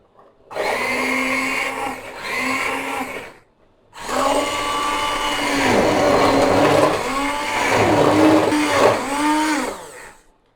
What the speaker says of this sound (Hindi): अब एक हैंड ब्लेंडर लेंगे और इससे अच्छी तरह दाल को घोट